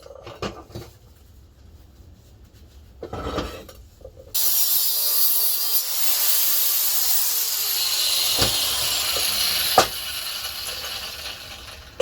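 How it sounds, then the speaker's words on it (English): A metal weld being cut with a hiss: a few sharp knocks come first, then a steady, loud, hissing cutting sound runs alone for most of the clip, broken by one brief louder crack. "I'm going to cut this weld."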